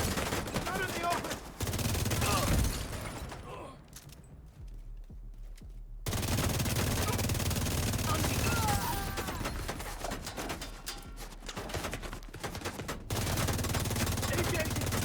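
Video game gunfire crackles in sustained bursts and rapid automatic volleys, loud and dense, broken by a short quieter lull, with a voice speaking intermittently over the shooting.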